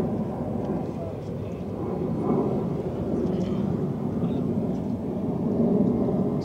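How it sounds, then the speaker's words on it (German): An airliner passes overhead near a cruise ship, producing a steady broad roar that swells slightly and fills the whole stretch without clear breaks. It dominates the scene, with faint ambient sounds mixed in. "Ist das ein bayerisches Flugzeug?"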